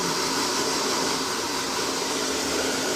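A hair blower runs steadily at close range, a constant whooshing motor hum with no speech.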